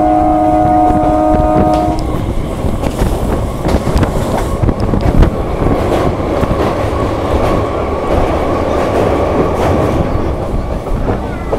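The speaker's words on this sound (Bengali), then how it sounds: "1 মিনিট হল্ট দেওয়ার পর আমাদের ট্রেন ছেড়ে দিল কাকদ্বীপ স্টেশন থেকে" Local train pulling out of Kakdwip station on the Sealdah–Namkhana line toward Bakkhali, a loud steady rumble with rail clatter and a horn-like tone fading in the first two seconds, heard from on board.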